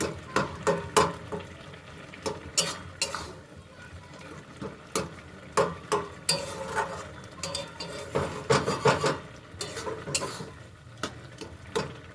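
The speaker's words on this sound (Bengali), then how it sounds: "আলুগুলো একটু ঘেঁটে দেবো।" A spoon stirs potatoes in a frying pan, part of a pointed gourd and peanut dish, clinking and scraping against the metal in irregular bursts over a soft sizzle.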